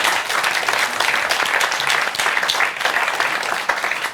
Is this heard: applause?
yes